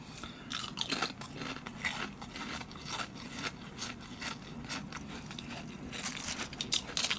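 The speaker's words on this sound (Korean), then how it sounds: "자 이렇게 되어 있는 과자부터 한번 먹어보죠" Daily Crave veggie chips crunched close up, with a rapid, irregular run of crisp bites and chewing crackles that stays fairly quiet throughout.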